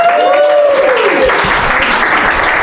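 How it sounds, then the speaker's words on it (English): Theatre crowd at a comedy show in Halle applauding loudly and steadily, a dense wash of clapping with a whistle sliding down at the start. "Give her a round of applause."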